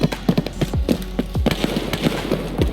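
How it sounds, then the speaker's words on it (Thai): Gunfire in a shooter video game cracks as a scattered series of sharp, distant shots, each with a low trailing boom, sounding irregularly over a steady low hum. "เสียงปืนขยับไปตรงนู้นละ ไกลละ"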